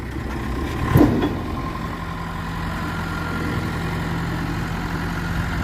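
A 1922 Rumely 16-30H Oil Pull tractor engine runs at a steady low idle with a continuous deep drone, near and fairly loud, with one brief louder thump early on.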